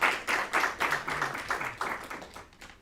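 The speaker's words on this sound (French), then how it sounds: "qu'on applaudit bien fort." A small audience claps at a presentation of a book in a cultural centre, a quiet, fairly distant patter of hands in uneven bursts that thins out toward the end, with no talking over it.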